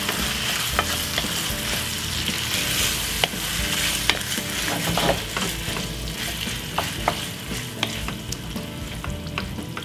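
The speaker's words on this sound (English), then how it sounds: "Give it a stir." Bolognese sauce stirred in a hot pan, with a steady bubbling sizzle under repeated scraping and clicking strokes of a utensil against the pan, close and fairly loud, no voices.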